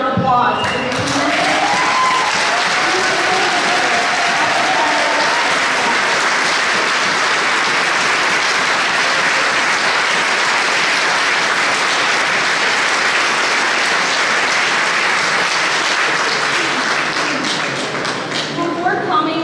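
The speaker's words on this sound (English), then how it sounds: "So please give each and every one of yourselves a round of applause for your commitment" Loud, dense applause from a crowd at an equality rally at a state house, sustained and close for nearly twenty seconds, with faint voices and a few shouts mixed into the clapping early on.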